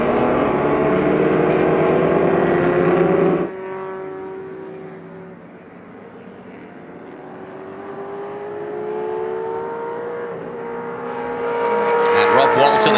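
A Shelby and a Ferrari 275 GTB race past at a vintage GT race at Sonoma, their engines roaring loudly near at hand, then fading into a droning hum before swelling again, while a commentator talks over them.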